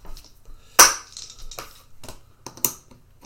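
Dice clatter across a tabletop in a few sharp, close taps and rattles, with one loud hit followed by smaller bounces and quiet pauses between them.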